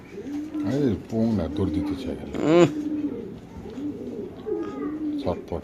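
Pigeons coo repeatedly at a pigeon farm, throaty rolling calls close by, mixed with people talking nearby.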